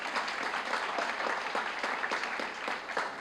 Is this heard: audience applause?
yes